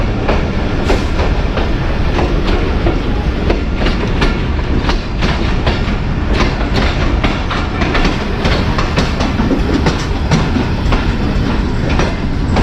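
Mianwali Express train pulling into Khushab railway station, a loud, steady rumble of carriages with rhythmic clickety-clack of wheels over rail joints, heard from on board and continuing throughout.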